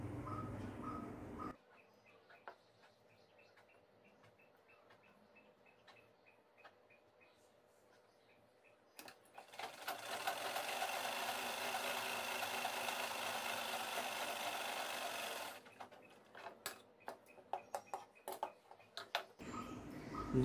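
Sewing machine running a steady stitching burst while sewing a child's nima garment, a dense whirring hum that starts, holds for several seconds, then stops, with scattered light clicks and handling before and after.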